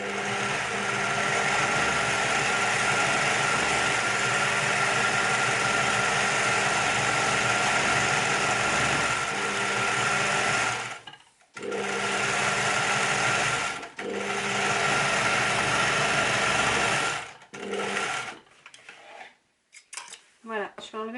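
A sewing machine runs a first pass around printed fabric placed underneath for a bag flap, a loud steady mechanical whir lasting long stretches, broken by short pauses and a few stop-start bursts near the end.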